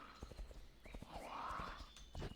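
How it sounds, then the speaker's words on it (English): A horse's hooves clip-clop at a steady walking rhythm in World of WarCraft, riding through Stranglethorn Vale, fairly quiet and mixed with soft game ambience. "That's the loudest I've ever heard this horse"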